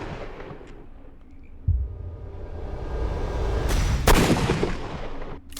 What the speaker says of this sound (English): I gotta shoot this dude.